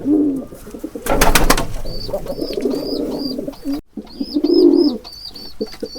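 Soft, repeated cooing of a pigeon kept at home, rising in several short bursts near the microphone, with a brief louder rustle or flutter early on and a clear pause partway through.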